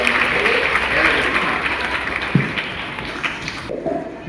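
Audience clapping steadily at a Sai temple Karthika festival gathering in Kaladagi, a dense sustained patter of many hands that thins out toward the end.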